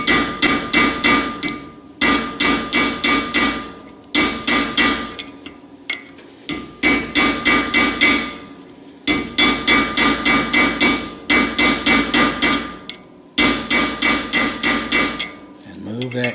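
Repeated hammer blows drive a chisel used as a wedge on a Fairbanks Morse 3HP ZC engine under repair, coming in loud close bursts of rapid metallic strikes separated by brief pauses.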